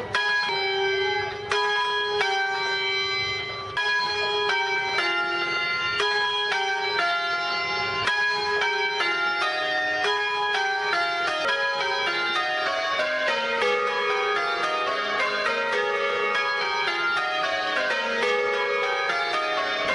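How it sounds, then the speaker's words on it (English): The new church bells of St James Garlickhythe ring continuously in overlapping peals, loud and close, the tones tumbling in changing sequences throughout with no voices. "when we ring bells, we ring from the position where the bell is face up"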